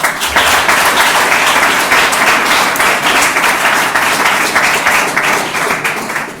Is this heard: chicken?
no